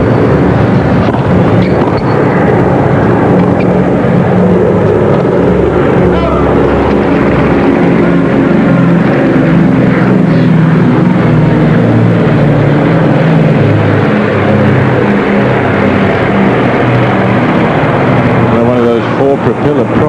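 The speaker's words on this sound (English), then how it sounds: "Propeller prop planes flying overhead." Propeller planes drone overhead at a tennis match, a loud continuous engine roar with wind noise that persists throughout, with a crowd and commentary in the background.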